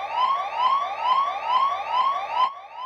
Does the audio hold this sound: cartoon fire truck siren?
yes